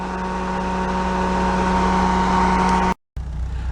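Cooling fan on a 1968 VW Double Cab running with a steady, fairly loud whirring drone and a constant hum, cut off abruptly near the end before resuming briefly.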